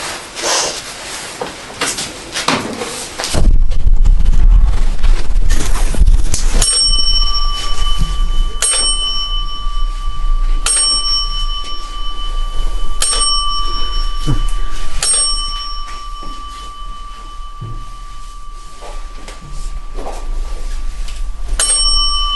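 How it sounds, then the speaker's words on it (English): Paranormal detection devices aboard the submarine USS Batfish sound a bell alarm: after loud, rumbling handling noise at the start, a bright bell rings in repeated sharp strikes about every two to three seconds under a steady electronic tone. "You like that bell?"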